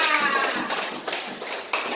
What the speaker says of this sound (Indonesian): langsung tepuk tangan buat kelompoknya Iqbal